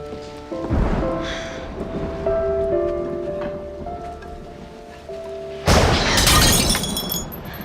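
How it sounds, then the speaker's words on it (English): Thunder rumbles and a dish smashes loudly partway through, in a rainy Western-movie scene, with sustained tonal music underneath; the shatter is sharp and close, followed by a bright lingering crash. "The thunder startled me."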